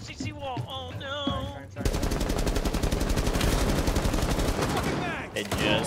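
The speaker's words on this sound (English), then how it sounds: "start shooting at the CC wall" A continuous, fast burst of automatic fire aimed at a wall during a competitive shooter match, hammering steadily for about three seconds right after a short spoken line.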